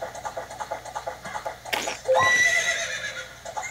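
A horse neighs loudly in The Legend of Zelda: Ocarina of Time, a rising whinny that trails off over a steady rhythm of game music, close and clear with no talk.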